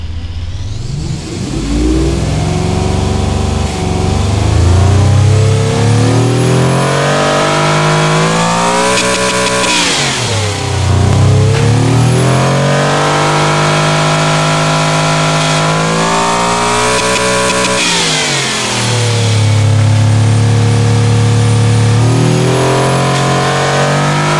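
A 16-cylinder car engine in the tycoon game Automation revs loudly and continuously, its pitch sweeping up and falling back in repeated surges with no talk over it.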